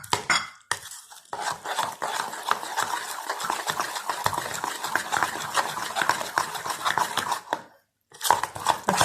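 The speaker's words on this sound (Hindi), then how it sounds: "अच्छी तरह मिक्स करना है।" Eggs mixed with salt and chili by hand give rapid, rhythmic clinks and scrapes of a utensil against a bowl, close and busy, with brief pauses near the start and end.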